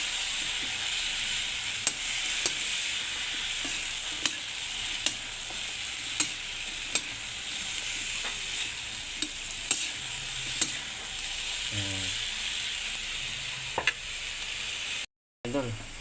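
Cabbage and bean sprouts stir-fry in a hot pan with a steady, loud sizzle, punctuated by regular sharp knocks of a spatula against the metal and brief stirring scrapes; faint voices murmur near the end.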